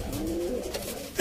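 A black-faced male pigeon gives a low, soft cooing close by, a short throaty murmur ending in a sudden louder bump.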